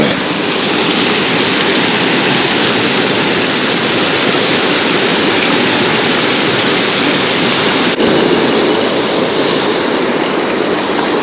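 A large waterfall with many trout pours steadily as a loud, continuous broadband roar, close and unbroken for the whole stretch.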